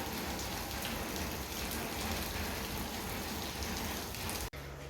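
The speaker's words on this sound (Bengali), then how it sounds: "বৃষ্টি শুরু হয়েছে মুসলধারে হচ্ছে না ওই ঝিরঝির ঝিরঝির করে হচ্ছে" Steady, even patter of rain falling on surfaces, a continuous soft hiss with no voices, cutting off briefly just before the end.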